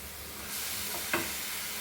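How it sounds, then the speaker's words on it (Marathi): Grated carrot for carrot halwa sizzles in ghee in a pan, a steady close frying hiss that rises partway through, with a spatula scraping and stirring once. "मी तुपावर परतून घेणार आहे हा गाजराचा किस"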